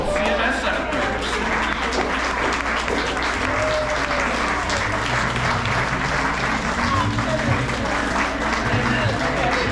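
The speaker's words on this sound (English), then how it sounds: "Please give a round of applause to Miss Jada Ware and Landon Davidson" Clapping from an audience at the GMAEC Refind Fashion Show 2024 as two 7th-grade students are introduced, a steady continuous patter with voices and cheering mixed in over a low background hum.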